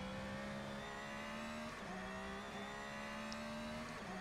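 A Porsche 911 RSR race car engine in a racing video game holds a sustained buzzing drone, with pitch sliding through a couple of gear shifts around the middle, steady and alone.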